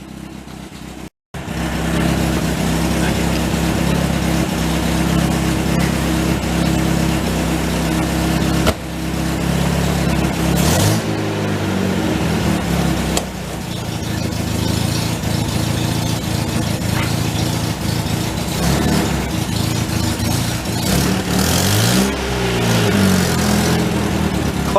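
A 1953 MG TD barn find runs steadily while driving, its engine a loud, continuous drone with a chattery clutch, brief dips in level and rumbling bumps along the way, no voices.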